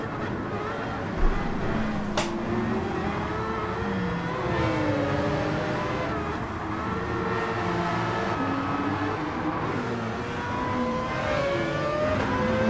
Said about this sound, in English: I really like the sound of the car in front